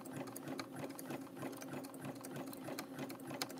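A sewing machine runs at medium speed while stitching a fabric coaster, giving a rapid, even mechanical chatter of needle strokes that continues steadily throughout at close range.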